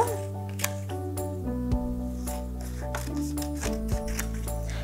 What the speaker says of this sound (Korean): 반으로 잘라서 먼저 노란색 2개부터 오려 볼게요